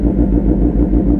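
A Kawasaki ZX10R motorcycle with a loud exhaust rumbles at a steady, deep idle close by, a continuous throbbing drone with no voices over it.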